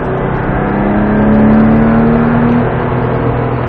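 Porsche 997 accelerating on the Mettet circuit, a loud close engine drone rising steadily in pitch with no talk over it.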